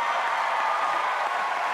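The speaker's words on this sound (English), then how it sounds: "let's give Heidi a round of applause" Dense audience applause at a talent show competition, an even roar of clapping from a large crowd heard up close, filling the whole short moment.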